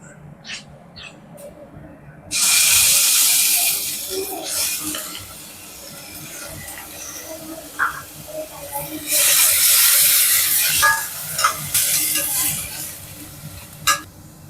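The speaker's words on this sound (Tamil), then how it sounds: "வெங்காயம் வதங்கிருச்சு, இஞ்சி பூண்டு பேஸ்ட் போட்டுக்கலாம்." Onions and ginger garlic paste fry in a pan, with quiet stirring that gives way to two long bursts of loud, hissing sizzle, plus occasional clinks of a utensil.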